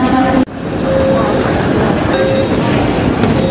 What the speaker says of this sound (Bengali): আমি এখন সেন্ট্রাল স্টেশনে চলে এসেছি।